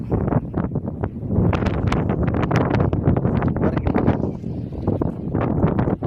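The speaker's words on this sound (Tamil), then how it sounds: "சரியான காற்று" Strong wind buffeting the microphone outdoors on a high rock hill, loud continuous rumbling gusts and flutter lasting throughout, close and harsh, no speech.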